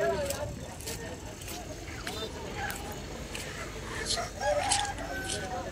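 Many chickens cluck and fighting roosters crow amid a busy, noisy crowd at the Vadalur poultry market in Tamil Nadu, with people talking throughout.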